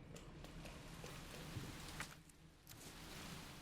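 Rain beats down outside in the Resident Evil 2 remake, a faint, steady wash of hiss and patter with no voices.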